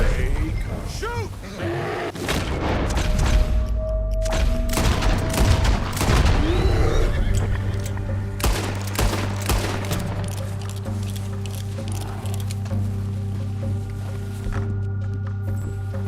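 A gang shootout in Red Dead Redemption 2 erupts in rapid volleys of rifle and pistol shots, loud and overlapping, then thins to scattered cracks, with a voice talking over the gunfire.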